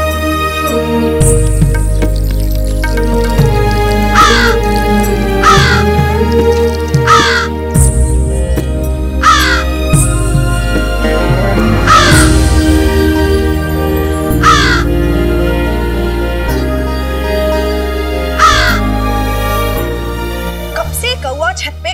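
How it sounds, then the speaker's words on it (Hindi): A crow caws repeatedly above a rural courtyard, the harsh calls coming at intervals over a steady bed of background music and sound effects. People talk through much of the scene. "सिर पे काव काव काव काव करे जा रहा है, समझ नहीं आ रहा क्या कारण है।"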